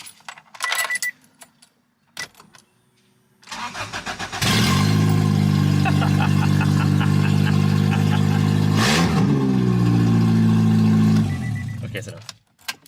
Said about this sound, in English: I'm gonna turn the car on without the downpipe.